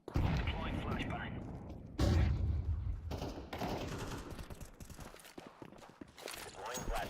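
Dense bursts of gunfire and a flashbang blast crack through a tactical shooter match, loud and close, with a sharp impact about two seconds in and repeated shots after, while voices talk over the action.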